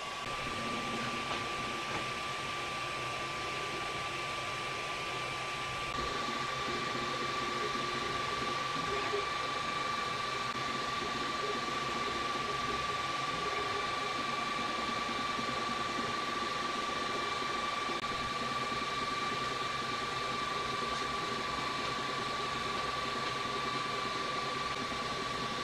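An Eryone Star One 3D printer warming its heated bed before a print, giving a steady, constant mechanical hum like a cooling fan, with faint tonal whines running throughout.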